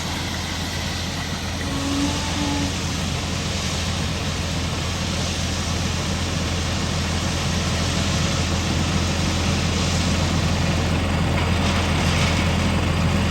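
A tractor smoothing and spreading rock on a ranch gives a steady, continuous low engine drone with broadband rumble, moderately loud and unchanging throughout, with no talk.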